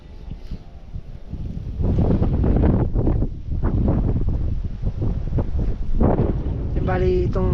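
Strong, steady wind buffets a microphone in an open farm field during a typhoon, roaring continuously with gusty surges, while people talk under it.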